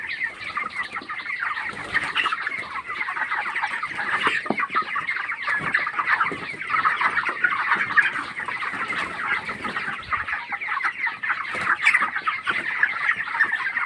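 A crowd of 22-day-old broiler chickens on a poultry farm clucks and chirps continuously, a dense chorus of overlapping calls with no talking.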